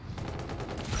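Shotgun blasts in the shooter Call of Duty: Infinite Warfare come as a rapid run of loud, booming shots over a second, dense and close with no pause between them.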